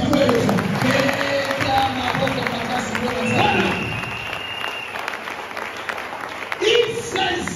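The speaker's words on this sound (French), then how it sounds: "Ok, c'est bon, maintenant acclamez" A church congregation applauds, with loud dense clapping that swells and then fades, mixed with crowd noise and a preacher's voice over it.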